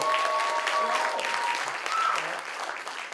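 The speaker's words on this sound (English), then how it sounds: "Clap for love." Audience applause at a SummerArts event fills the whole stretch, dense steady clapping from a crowd, loud and continuous with a faint voice or tone riding over it.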